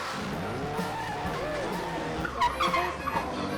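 Race cars at the Yorkshire Motorsport Festival skid with a sustained, wavering tire squeal over a steady engine roar, rising to a louder, sharper screech near the end; no talk is heard.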